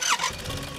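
A car's engine cranks and squeals as it starts in the zombie survival game SCUM, with a brief high whine followed by a low rumbling turnover, close and loud.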